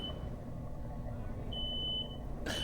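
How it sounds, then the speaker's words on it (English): A smoke alarm sounds indoors after bacon is cooked, giving two thin, high-pitched electronic beeps, one brief and one long, over quiet room noise that ends in a sudden burst of sound. "That's my frickin' smoke alarm."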